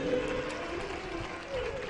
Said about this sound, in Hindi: एक बार जोरदार ताली बजाएं इनके लिए।